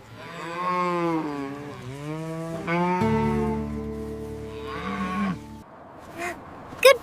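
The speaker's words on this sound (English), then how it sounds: "Goodbye, cows." Cattle moo on a farm in long, drawn-out, loud calls, several overlapping lows following one another close by with no talk.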